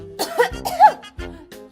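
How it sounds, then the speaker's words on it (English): A voice performs a theatrical cough while reading a comedic My Little Pony fanfic aloud, giving several close, loud, throaty hacks in quick succession with brief pauses between them. "Rarity coughed."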